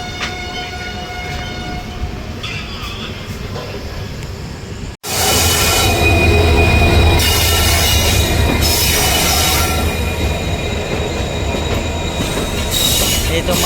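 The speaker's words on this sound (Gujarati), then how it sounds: "ये तो मालगाड़ी है." A freight train passes close by on the way to Haridwar, a loud continuous roar of rolling wagons with screeching wheel squeal and rhythmic clatter after a sudden onset.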